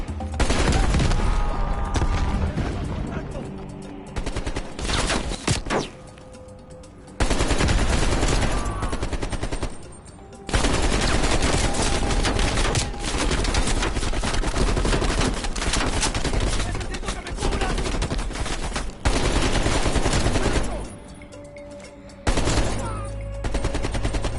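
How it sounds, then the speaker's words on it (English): Sustained suppressing gunfire in Call of Duty Black Ops Cold War, loud close automatic bursts and rapid volleys that repeatedly cut off and resume over about twenty-four seconds. "Lay down suppressing fire!"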